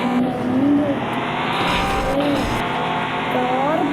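A Bugatti Chiron in a car simulator game drives flat out at about 300 km/h, its loud, steady engine roar filling the whole stretch with rising whine tones and brief tire squeal over the top.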